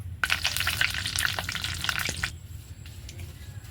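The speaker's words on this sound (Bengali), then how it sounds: "এরপরে কারি পাতাগুলো ভেজে নেব" Curry leaves crackle and sizzle in hot oil, a dense loud spitting that fills the first two seconds, then settles into a quieter steady fry with occasional pops.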